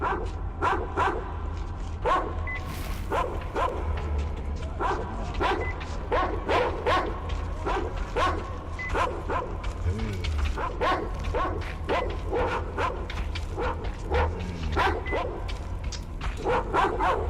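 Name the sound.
dogs barking, from video game Metro Exodus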